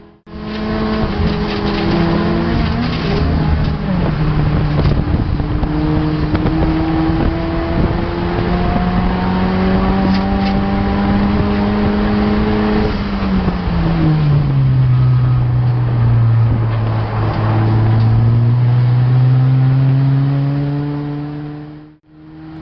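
A race car engine during a GLTC race lap at MidWest, loud and sustained from onboard, the pitch rising through the gears and dropping on downshifts with no one speaking.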